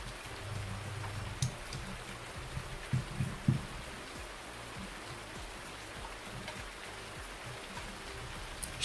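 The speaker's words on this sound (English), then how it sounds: "Stop raining! It's very loud." Steady rainfall in Farming Simulator 19, a broad continuous hiss of drops on the ground with a few louder patters, heard alone without talk.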